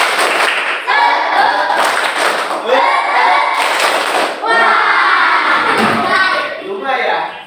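Schoolchildren in a classroom do a rhythmic spirit clap, with loud bursts of group clapping in a patterned beat mixed with children's voices calling out together.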